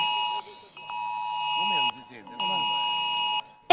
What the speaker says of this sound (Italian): suono distintivo di IT Alert, il nuovo sistema di allarme pubblico nazionale che oggi viene testato in tutta la Sicilia